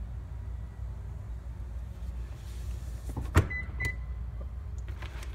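Power seat motor in a 2016 Infiniti QX50 AWD, a faint steady whir under a quiet cabin hum, with a brief click and short motor burst partway through, no voices.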